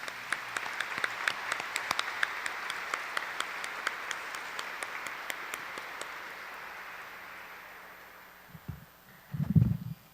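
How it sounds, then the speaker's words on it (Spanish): A church congregation at a morning novena for the Santo Cristo gives a welcoming round of applause. Dense, steady clapping fills the room, then thins and fades out, with a few soft thumps and rustles at the end. "Pues damos un aplauso de bienvenida"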